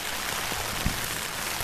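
Steady rain falling outdoors and pattering on a nearby umbrella, a continuous dense hiss with a few louder drop impacts, no voices.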